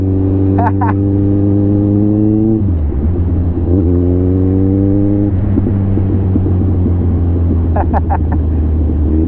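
A Kawasaki Ninja 1000cc motorcycle engine revs up in rising pitch sweeps, drops back, then climbs again, loud and close over a steady idle rumble.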